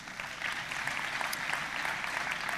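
Dense, steady audience applause at a conference and expo fills the room, many hands clapping continuously at moderate distance.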